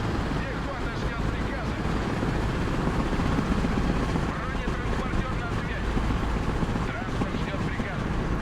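A Mi-26 heavy-lift helicopter in the combat game Broken Arrow gives off a dense, continuous rotor and engine roar, loud and unbroken throughout, with a voice talking over it.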